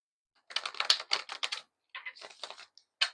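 Tarot cards are shuffled up close in quick crisp riffling bursts, with a short pause between rounds.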